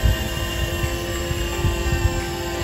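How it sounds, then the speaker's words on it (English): A KingTech K45 turbine fitted in a Freewing F-22 Raptor RC jet spools up, producing a loud, close, steady whine with several layered tones over a fluttering low rumble, and no talking. "The motor is turning."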